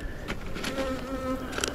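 Honey bees buzz steadily and close around an opened hive in a beeyard during a late-July mite treatment visit, a dense continuous drone with a few louder passes of individual bees near the ear and no voices.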